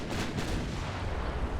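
Warship broadside gunfire in the naval game Ultimate Admiral Dreadnoughts booms as a dense, rumbling barrage of overlapping heavy shots that stays loud and continuous throughout, with no voices.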